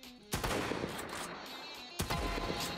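Gunshots in the Roblox game, sniper fire: two loud broadband blasts with long reverberant tails, one near the start and another about two seconds later.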